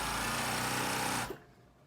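A sewing machine stitches a waistband with a steady, close mechanical whir, then stops abruptly and leaves a quiet room.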